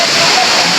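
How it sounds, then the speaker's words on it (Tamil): The Agaya Gangai waterfall at Kolli Hills roars loud and close in a dense, unbroken rush of falling water. "ஒரு வழியாக பார்த்தீங்கன்னா அருவி வந்தாச்சு"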